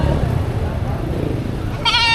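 A goat bleats at a livestock auction in Padre Garcia, Batangas, one loud wavering cry near the end after a stretch of busy crowd murmur and talk.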